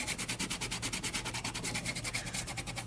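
Rhythmic back-and-forth rubbing of a tool burnishing a double stick sticker onto paper, steady and close, with even strokes repeating about five times a second and no talking.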